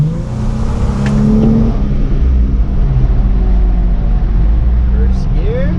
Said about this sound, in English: we're gonna try and see if we can get inside a tunnel and rev it in there